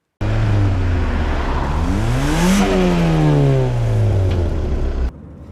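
A turbocharged Mazda MX-5 Miata accelerates hard up a back road through Cheddar Gorge, the engine note climbing steadily through the revs before a quick drop at a gear change, then rising again, loud and close.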